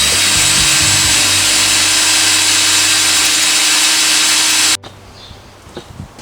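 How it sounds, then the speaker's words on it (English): A power drill with a masonry bit bores guide holes into the back wall of a house, a loud continuous grinding whine that cuts off abruptly near the end, leaving faint clicks. "Alright, I'm going to do some guiding holes. This is a mortar drill bit"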